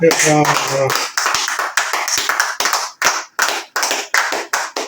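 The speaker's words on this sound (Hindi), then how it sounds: "मूसा के लिए भरपूर और ज्यादा तालियां।" Hand claps from a small group in a teaching setting: a voice briefly opens, then sharp, distinct claps follow in an uneven, roughly rhythmic series, close and fairly loud.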